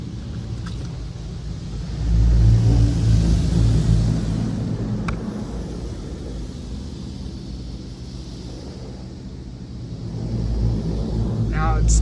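An automatic car wash rumbles over a car's front bumper with a steady low mechanical drone and hiss of spray, swelling louder at times, while a person talks over it.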